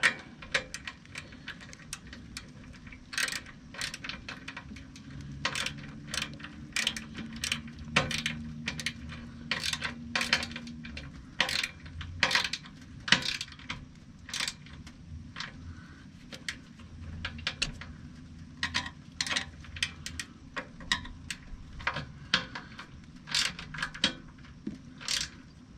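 Wrench ratcheting as a bolt is tightened on the turbo intercooler of a 2007 Freightliner truck, with a long run of quick, uneven metallic clicks close up over a low background hum.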